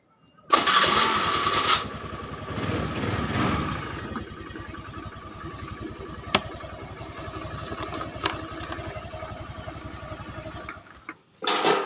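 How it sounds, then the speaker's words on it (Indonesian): A motorcycle electric starter with a clicking fault is tested, cranking with a steady mechanical churning clatter for about ten seconds, with brief sharp clicks partway through, then stopping and briefly restarting. "Kita tes starternya lur."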